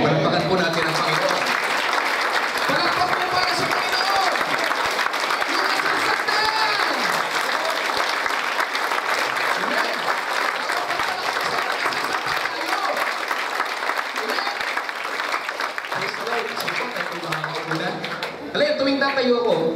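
A church congregation applauding, sustained loud clapping from many hands that lasts nearly the whole stretch, with voices mixed in underneath and a brief dip near the end.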